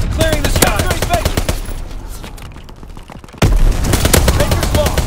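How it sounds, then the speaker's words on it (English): Rapid anti-aircraft gunfire salvo from Call of Duty: WWII, a dense run of sharp repeated shots with a short lull before a loud burst resumes, mixed with other battlefield noise. "Anti-aircraft salvo commenced."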